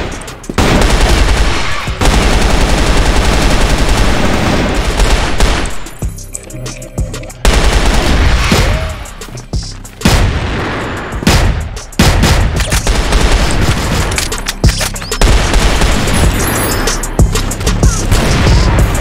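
M4A1 rifle fire in a video game: loud, rapid automatic bursts and fusillades nearly continuous, with a few short pauses between volleys.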